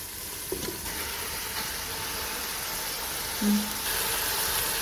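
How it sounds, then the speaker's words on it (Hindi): Camel meat added to a karahi of spiced masala cooked on a low flame sizzles with a steady, even hiss, a few faint clinks, and one brief low tone near the end. "अब हम इसमें मीट ऐड करेंगे, ऊँट का मीट।"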